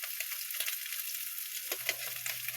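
Food sizzles and crackles in a hot pan, a steady hiss with small pops, fairly quiet and close, with no talking.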